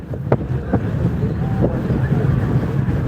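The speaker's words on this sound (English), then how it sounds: "It was already a little bit windy" Wind buffets the microphone on a moving ferry at speed, a loud, steady low rumble and roar filling the whole stretch, with faint distant voices and a few soft knocks underneath.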